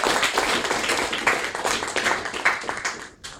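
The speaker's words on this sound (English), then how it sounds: "can we have another round of applause for him?" A small audience at a public-speaking club in Bangalore claps for a speaker, the individual hand claps distinct and fairly close, then tapering off and stopping near the end.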